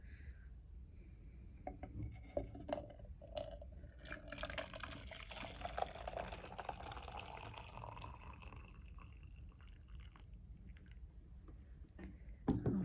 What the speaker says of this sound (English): now I'm going to carefully fill my container up pretty full